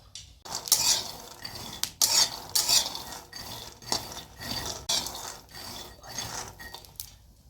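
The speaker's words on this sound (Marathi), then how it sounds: "चांगले हे कढईमध्ये चांगले खरपूस भाजून घ्यायचे कमी गॅसवर" Repeated scraping and rattling of a utensil stirring peanuts roasting over low heat in a metal wok, in irregular bursts over several seconds, close up with no talking.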